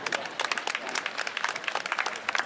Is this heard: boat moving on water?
no